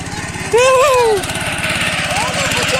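A Honda GX 200 tiller engine runs steadily with a fast, even chug close by, while voices talk over it throughout.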